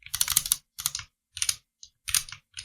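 Fingers type code on a computer keyboard during a Dart programming lesson, in five quick clattering bursts of keystrokes separated by short pauses, close and fairly loud, with no voices.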